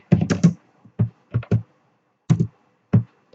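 Keys clatter on a computer keyboard while Python code is typed, coming in short close bursts of several quick clicks separated by brief pauses, with no talking.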